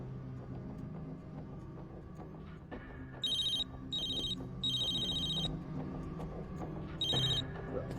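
A telephone rings in four short bursts of electronic trilling over a quiet room hum, with irregular gaps between rings.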